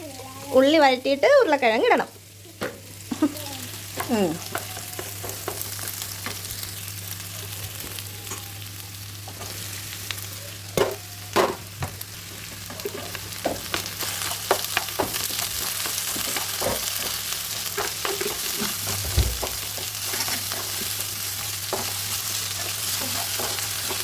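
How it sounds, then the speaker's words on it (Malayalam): Onions sauté in a pan for a simple Kerala-style potato stir-fry, a continuous close sizzle with spatula scrapes and clinks, and voices talking briefly at the start. "ഉള്ളി വഴറ്റിയിട്ട് ഉരുളക്കിഴങ്ങ് ഇടണം."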